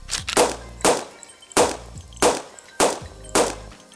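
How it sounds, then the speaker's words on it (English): Pistol being reloaded in a Resident Evil PS1 remake built in Unreal Engine 5, heard as five or six sharp, loud metallic clacks at a steady rhythm, each with a short ringing tail, and no talking. "We can reload."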